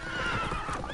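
Roach, Geralt's horse in The Witcher video game, gives a close, loud whinny with hoof clops underneath, all within a single second.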